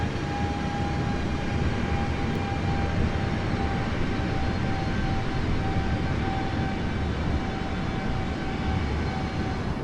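Steady, even drone of an aircraft in flight in Microsoft Flight Simulator, a broad engine and airflow rumble with a faint high whine, unchanging and alone throughout.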